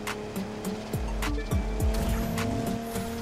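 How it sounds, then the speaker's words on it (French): A Mitsubishi 3000GT in the racing game The Crew 2 revs and strains through corners, its engine note rising and dipping as the tires squeal repeatedly, loud and close, with faint background music. "cette voiture a du mal à prendre les tours"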